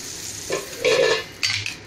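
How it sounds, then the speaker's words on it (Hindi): Pav bread pressed down and frying in a pan for pav bhaji makes a soft sizzle, with a few close scraping and clinking touches of a utensil against the pan. "ऐसा पाव को दबा के अच्छे से फ्राई करने की है"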